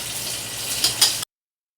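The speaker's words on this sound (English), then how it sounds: "finish frying up these pies" Peach pies frying in hot oil give off a steady, dense sizzle with a couple of brief pops near the end before it cuts off abruptly.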